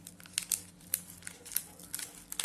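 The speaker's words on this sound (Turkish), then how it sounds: "İsterseniz paketi açalım ve hemen deneyelim." A Milka Oreo Choco chocolate bar's wrapper is torn and crinkled open, with several sharp, close crackles and rustles spread through a short, quiet stretch.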